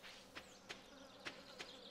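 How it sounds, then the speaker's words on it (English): Soft insect buzzing from the Stardew Valley video game, a faint steady drone broken by several short sharp pulses in an irregular rhythm, with no talk. "I'm talking about the actual buzzing."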